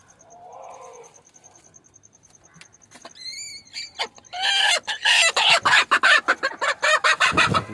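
Chickens, including a broody hen, cluck and squawk close by, quiet at first, then building into loud, rapid, agitated bursts, with no one talking.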